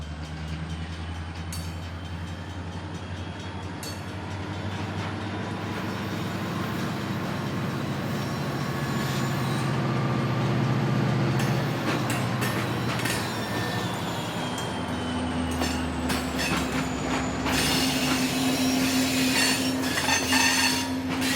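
A freight train on the Yorba Linda Branch in Orange County rumbles and rolls along with wheels squealing and metallic clanks, steady heavy mechanical noise throughout, with a long screech as the air brakes dump and stop it.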